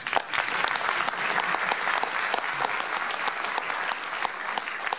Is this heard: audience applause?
yes